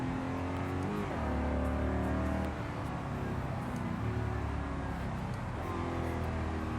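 Steady engine drone of a car in a driving video game, revving up and shifting pitch a few times, loud and continuous with no talking.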